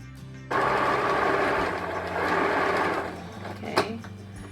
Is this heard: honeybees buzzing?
no